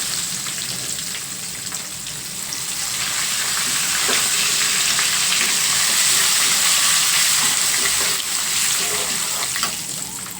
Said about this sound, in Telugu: పోపు అయితే చూసారు కదా బాగా వేగిపోయింది ఇట్లా గోల్డెన్ బ్రౌన్ కలర్లో